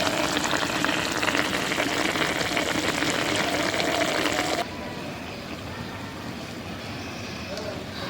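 Puti fish frying in hot oil, a steady close sizzle with crackling and bubbling that drops abruptly to a quieter simmer partway through, with a voice talking over it.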